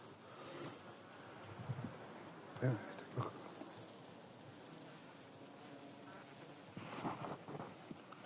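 Honeybees in a hive during a cool spring inspection give off a faint, steady buzzing close by, broken by a few soft handling bumps.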